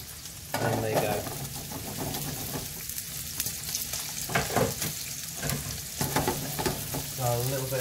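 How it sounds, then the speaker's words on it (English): Onions sautéing in a little oil in a clean hot pan, a steady close sizzle with occasional stirring scrapes and bursts of hissing. "I'm going to saute off my my onions. So again, a little bit of oil, nice clean hot pan"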